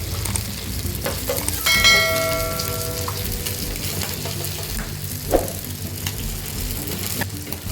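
Sardines (mathi meen) fry in hot oil in the street-cart style, a dense steady sizzle with clinks and scrapes from stirring or turning, and a ringing bell-like metallic tone near the start.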